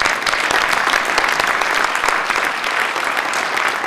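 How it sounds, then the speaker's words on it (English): An audience at a conference awards breakfast claps steadily, producing a full, even round of applause that lasts the whole time without any talking. "let's give him a round of applause."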